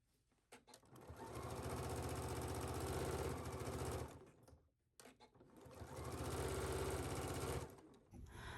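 A sewing machine stitches a lining seam at a 5/8 allowance, running in two long steady bursts with a brief pause between, loud and close with no talk.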